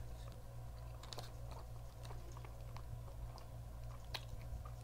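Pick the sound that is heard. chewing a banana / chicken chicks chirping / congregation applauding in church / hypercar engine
chewing a banana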